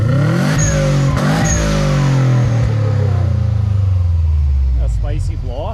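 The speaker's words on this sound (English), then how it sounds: "A spicy blow-off valve in there." A 1982 Datsun 280ZX engine revs hard and close, rising then falling in pitch, with an HKS blow-off valve on the car; bursts of revving repeat over several seconds, loud and near.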